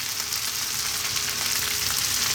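Ethiopian spiced butter, kibe, sizzles and fries loudly with lamb in a pan, a constant close crackle with no pauses.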